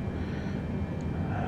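Steady airplane engine drone from a flight simulator game, a continuous broadband hum heard during a calm evening flight on approach to landing, with no talk.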